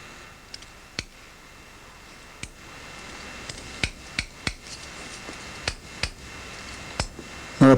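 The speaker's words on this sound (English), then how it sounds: "use a setting hammer to bring that blade further over" A setting hammer taps a pen knife blade into place against brass, giving a dozen or so sharp, light metallic taps at irregular intervals in a quiet workshop, close up.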